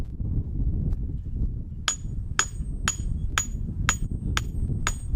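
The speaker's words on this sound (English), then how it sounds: "I'm just going to take this hammer and tap the head just a little bit" Steady metallic hammer taps, about seven evenly spaced strikes, seating a sledgehammer head onto its handle, ring out over a low rumbling background noise.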